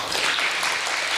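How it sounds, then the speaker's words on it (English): Broad, steady applause from an audience at a startup pitch competition event, a dense wash of many hands clapping at even loudness throughout, with no talk over it. "Big applause for the team of the Premium Co-working Spaces"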